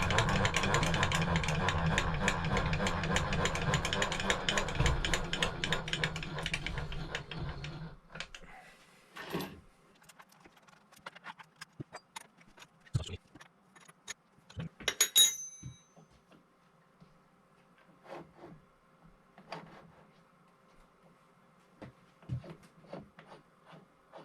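Head of a SECO shell mill machine being cranked upward, a steady dense mechanical grinding and whirring for about eight seconds, then sparse scattered clinks and knocks close by with quiet gaps.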